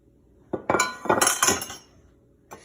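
Metal baking pans, a loaf pan and an 8x8 inch square pan, clank and clink together in a kitchen, a short burst of knocks followed by one more light clink, close and fairly loud.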